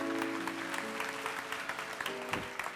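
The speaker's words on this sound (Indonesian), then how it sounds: "Kasih tepuk tangan untuk Tuhan." A church congregation breaks into dense, sustained applause, a close wash of many hands clapping together with a low murmur of voices beneath.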